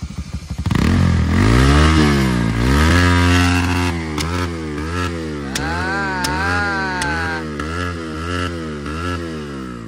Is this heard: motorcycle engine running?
yes